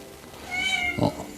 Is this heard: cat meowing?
yes